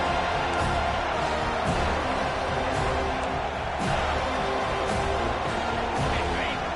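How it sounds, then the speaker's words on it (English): A football stadium crowd on third down sends up a thick, continuous roar that swells and holds, with a commentator talking over the noise. "Here comes this whole crowd as the defense tries to get off the field on 3rd down."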